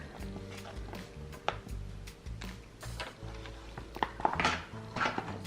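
Clattering and scraping of a utensil against a bowl as a cleaning solution of water and washing gel is stirred, with irregular knocks and clinks, fairly close.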